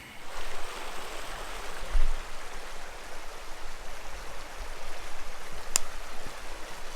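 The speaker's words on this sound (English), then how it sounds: "And this is Staton Creek" Staton Creek flows with a steady, broad rushing wash, a close and continuous babble of water along a brushy creek bed with no trail, heard alone.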